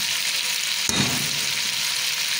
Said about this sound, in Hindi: और अब मैं इसको अच्छी तरीके से भून लूँगी